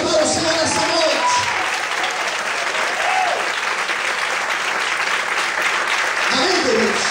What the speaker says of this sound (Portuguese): Todos podem aplaudir e exaltar o Senhor nessa noite.